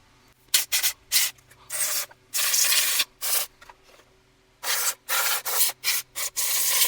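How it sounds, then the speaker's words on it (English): Close, sharp hisses of aerosol contact cleaner sprayed on shop-vac electronics come in a series of short bursts and a few longer blasts, separated by brief silences. "I'm going to take some contact cleaner here"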